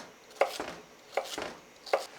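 A knife cuts carrots into small chunks on a cutting board for a quick potato salad, three distinct, evenly spaced chops close up, each a sharp knock with a short scrape, in a quiet kitchen.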